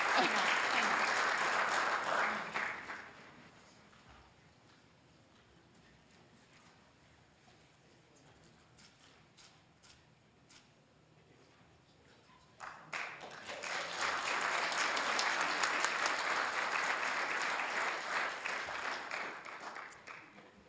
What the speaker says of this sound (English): let's give another round of applause to all these amazing honorees